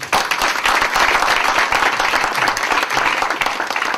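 A church congregation breaks into loud, dense applause, many hands clapping together in a steady close wash of sound that runs for several seconds.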